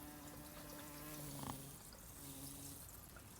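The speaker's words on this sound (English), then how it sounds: "Let's see if I can record this bee." A big bumblebee buzzes among garden flowers with a steady low drone that swells briefly as it moves nearer, over faint outdoor background noise.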